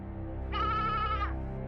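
A single goat bleats once, a clear wavering cry lasting about a second over a steady background hum, with no talking.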